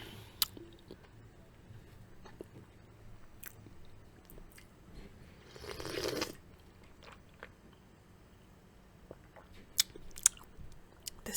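Soft, close bites and chewing on a homemade sandwich seasoned with black pepper and oregano, with scattered crisp clicks and one louder crunchy stretch midway, in a quiet room.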